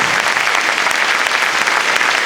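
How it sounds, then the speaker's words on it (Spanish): Loud, continuous applause from a big audience at a school in Santa Ana, California, an even wash of clapping with no pauses. "démosle un aplauso al sacramento de la confesión. Pero fuerte ese aplauso"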